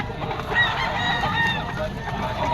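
Roosters, stags and other fowl on sale at a Bocaue pet market, with scattered honks and crowing-like calls over a steady crowded market din, mid-distance, and some talk in the background.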